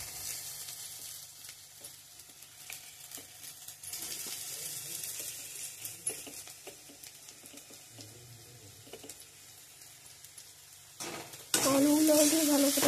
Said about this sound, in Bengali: আলুগুলো দিয়ে ভালো করে ভাজিয়ে নেওয়া হবে।